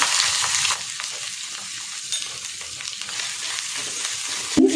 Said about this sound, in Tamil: சட்டி நல்லா சூடானதும் நல்லெண்ணெய் ஊற்றி இஞ்சி எல்லாத்தையும் எடுத்து போட்டு நல்லா வறுத்து எடுத்துக்கணும்